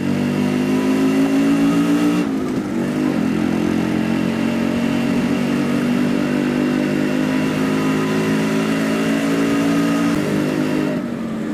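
Yamaha RX100 motorcycle engine running steadily and loud for the whole stretch, a constant mid-pitched two-stroke drone with a brief dip and change around the two-second mark, no voices.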